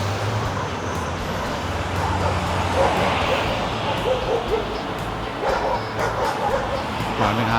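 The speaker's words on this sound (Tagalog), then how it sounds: "Maraming aso." Several dogs bark and yip outdoors over steady roadway traffic noise, with occasional whimpers and voices in the background.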